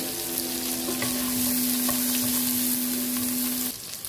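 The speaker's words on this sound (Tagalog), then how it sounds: "igisa natin onion, garlic, kamatis" Onion, garlic and tomato sauté in the oil left from frying eggs, for shrimp pancit; a loud, dense, continuous sizzle with occasional stirring clicks, close up, fading slightly at the end.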